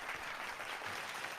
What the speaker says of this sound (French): j'ai des applaudissements sans...